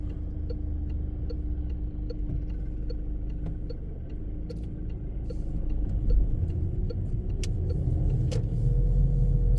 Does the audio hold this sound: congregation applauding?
no